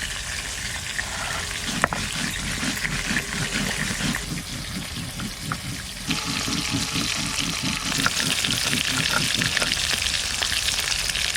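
Cumin seeds fry in hot oil in a pan, giving a steady, close sizzle with rhythmic stirring scrapes running throughout, briefly thinning midway before swelling again.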